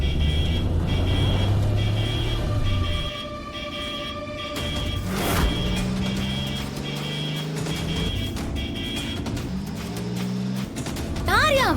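A car being driven on a road, a loud engine and traffic rumble that rises and falls with passing vehicles and short horn toots, while people talk over it.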